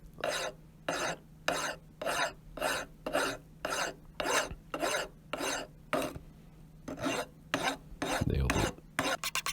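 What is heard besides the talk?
filing down a metal hammer head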